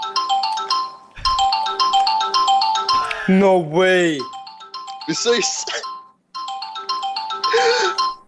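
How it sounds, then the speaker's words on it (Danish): A melodic phone ringtone plays repeatedly in the game Garry's Mod, loud and close, with a voice briefly speaking over the middle of it. "Der er en eller anden telefon, der ringer."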